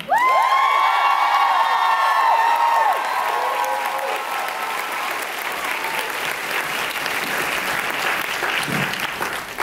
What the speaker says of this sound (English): A real quick round of applause for the band.